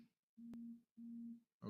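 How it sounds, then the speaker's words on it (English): A phone gives repeated beeping tones, two clear pulses of a steady low tone with brief gaps and the start of a third, quiet and alone. "It sounded like my phone was ringing."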